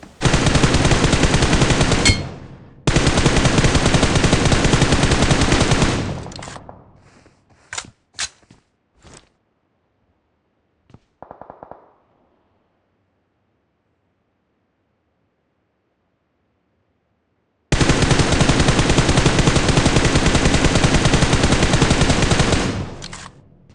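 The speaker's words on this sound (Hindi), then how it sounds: "सामने कुछ बंदे फाइट कर रहे थे, जिन पे मैं शॉट ट्राई करता हूँ" Automatic gunfire in the BGMI battle royale game: loud sustained bursts at the start, a quiet stretch with a few scattered single shots, then another long loud burst at the end.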